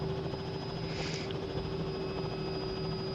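Helicopter rotor and turbine drone from a flight simulator in MSFS or X-Plane, lifting off into a steady hover; a continuous, even hum with a steady tone, no talk over it.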